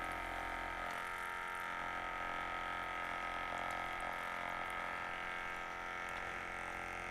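A Frabill 1.3 gallon aerated bait bucket runs its pump and pushes air through an air stone into the water, making a steady, close, even bubbling hiss that stays the same throughout, with no voices.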